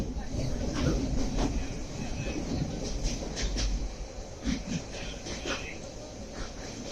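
A passenger train runs on rails during a long journey to Coimbatore, with steady rumbling and rhythmic clickety-clack over the track and muffled voices in the crowded carriage.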